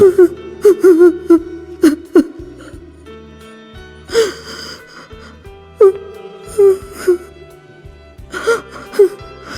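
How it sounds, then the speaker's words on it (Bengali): A woman sobs and gasps in a stage drama reading, broken wailing breaths and whimpers coming in uneven bursts, close and fairly loud, with pauses between the cries. "তুমি কাঁদছো? তোমার চোখে জল?"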